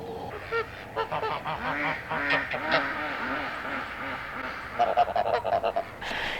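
Farm geese and ducks honk and quack in a loud, busy chorus as the flock approaches for snacks, calls overlapping close by with a burst of rapid honks near the end.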